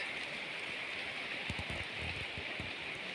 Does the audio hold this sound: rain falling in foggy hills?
yes